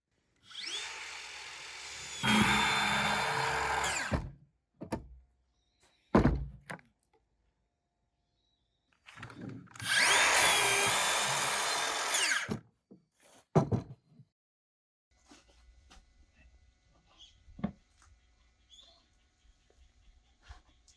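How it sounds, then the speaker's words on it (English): Short bursts of a power drill boring pilot holes through deck boards held in a jig, two long whining runs separated by brief clicks and knocks, close and fairly loud in a quiet workshop. "We are making a jig to drill pilot holes in the deck boards."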